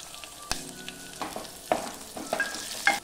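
Green chillies and garlic cloves fry in a pan at a soft sizzle, with scattered stirring scrapes and clinks from a utensil, close and fairly quiet.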